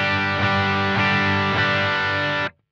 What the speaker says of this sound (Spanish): Vamos con el boost, sí, recordá, canal limpio.